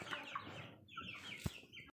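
Twenty-day-old chicks cluck and cheep in a household bird room, a faint, scattered series of short calls with a soft thump near the end.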